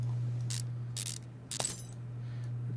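In Car Mechanic Simulator 2015 a nut is taken off a car's brake and axle assembly, giving three quick bursts of ratcheting clicks over a steady low hum.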